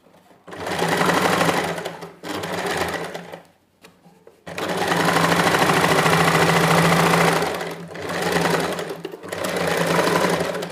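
A sewing machine top-stitches a lined neckline in several sustained motor runs of a few seconds each, with short pauses and one longer stop. The whirring is close and loud, with no talking.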